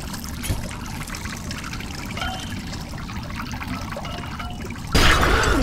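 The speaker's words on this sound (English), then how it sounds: "I think this water coming in is fine" Water streams steadily into an escape pod in the VR game I Expect You To Die, a constant trickling rush with a sharp, louder splash near the end.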